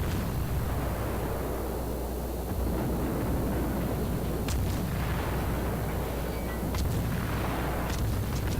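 Naval gunfire in the World of Warships video game sounds as a constant loud, rumbling battle roar, with a few sharp distant cannon reports cutting in over the dense noise and no speech.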